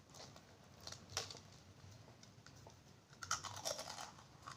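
Crispy fried chicken with a crunchy batter being chewed close to the microphone, quiet irregular crunches and crackles with no talking.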